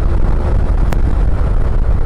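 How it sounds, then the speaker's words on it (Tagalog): Strong wind buffets the microphone in a steady, heavy rumble throughout, with a brief hissing burst near the middle. "Ang lakas ng hangin dito."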